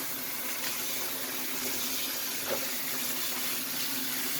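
Water pours steadily into a bowl of brined vine leaves being rinsed for stuffed grape leaves, a continuous close splashing stream with no speech.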